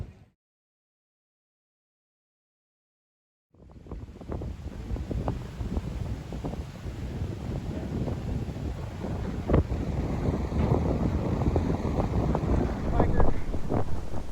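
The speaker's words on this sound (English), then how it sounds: "I know the wind is terrible" On Cumberland Island, after a few seconds of silence, strong wind buffets the microphone in a constant roaring rumble with gusty bursts that build louder toward the end.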